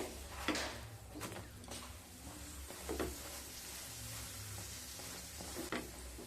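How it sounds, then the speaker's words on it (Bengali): A paratha fries in a pan, pressed down on each side. A quiet, steady sizzle runs underneath occasional soft scrapes and taps of the spatula. "দুটো সাইড ভালোভাবে চেপে চেপে ভেজে নিতে হবে।"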